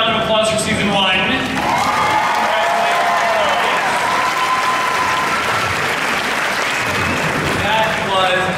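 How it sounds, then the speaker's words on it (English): A convention hall audience at a San Diego Comic-Con panel for The Gifted applauds the cast for season one: a loud, sustained wave of clapping mixed with cheers and whoops, with voices rising over it at the start and end. "let's give them a round of applause for season one."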